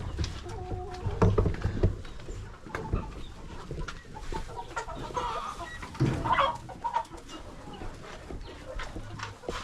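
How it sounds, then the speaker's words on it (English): Roosters clucking indoors, irregular close clucks and squawks scattered over a quiet, low background with no talking. "inside here it's only roosters"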